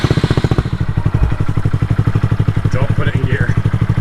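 A motorcycle engine catching and running, a loud, close, rhythmic pulsing of low thumps that holds steady throughout, with people talking over it.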